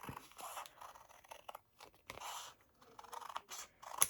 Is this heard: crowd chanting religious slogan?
no